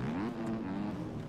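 A motocross bike engine in the racing game MX Bikes drones steadily, its pitch dipping briefly as it downshifts before holding a buzzing tone close up.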